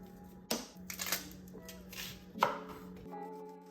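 A knife chops an onion on a cutting board, a few sharp separate knocks spaced unevenly over a quiet kitchen background with a faint steady hum.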